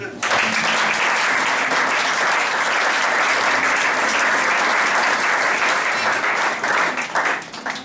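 A church congregation breaks into loud, sustained applause acclaiming Jesus during a sermon, the dense clapping holding steady for several seconds before tapering off at the end.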